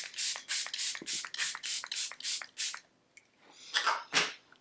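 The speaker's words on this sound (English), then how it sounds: "I'm gonna spray with my Charlotte spray." Charlotte Tilbury makeup setting spray is pumped in a quick run of about nine short misting bursts, then a few more after a brief pause, close and fairly soft with no talking.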